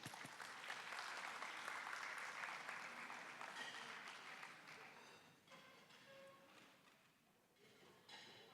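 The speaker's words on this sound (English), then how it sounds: "big round of applause" Audience at a Pacific child well-being conference breaking into sustained applause, a dense wash of clapping that gradually fades out, with some scattered voices and murmurs as it dies down.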